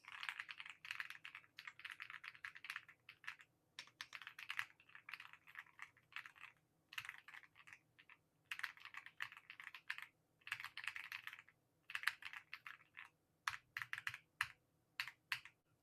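Typing on a new hefty 98-key computer keyboard with a number pad, a steady patter of close clicky keystrokes in bursts with brief pauses, heard on its own.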